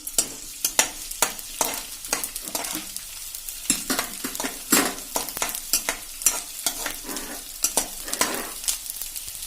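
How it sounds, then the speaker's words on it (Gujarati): Edible gum (gond) fries in a pan with a steady sizzle, broken by frequent scraping strokes of a spoon as it is stirred, close and alone without speech. "આપણે થોડો થોડો ગુંદ એડ કરતા જાશું અને ફ્રાય કરી લેશું"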